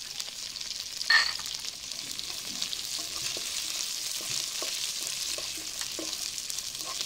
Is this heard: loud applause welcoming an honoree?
no